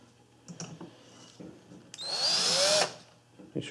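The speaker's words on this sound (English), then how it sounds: "We can hand drill these." A hand drill bores into an aluminum extrusion: a few quiet clicks and handling taps, then a rising whining motor burst of about a second as the bit cuts through, followed by more clicks.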